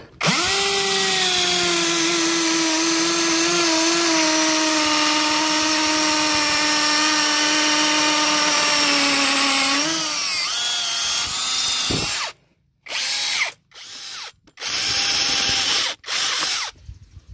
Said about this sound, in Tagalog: nasubukan na po natin ang ating Tanso cordless drill